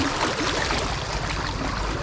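Floodwater rushes into the mouth of a pipe, making a loud, close, continuous broadband roar of churning water with no pause over the short stretch.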